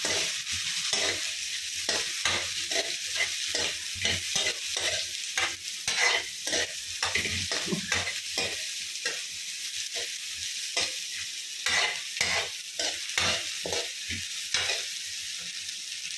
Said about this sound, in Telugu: ఉల్లిపాయలు వేగాయి కదా